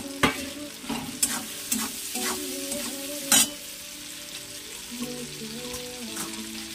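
Fried prawns stir-fried in a hot pan with ginger and tomato: close, continuous sizzling broken by several sharp spoon scrapes and knocks against the pan, no voices.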